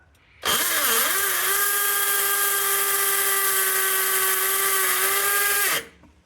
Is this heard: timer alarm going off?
no